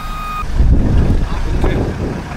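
A sugar factory truck is nearby: a short burst of beeping tones opens, then a low, steady engine rumble mixes with gusty wind noise, fairly loud and close.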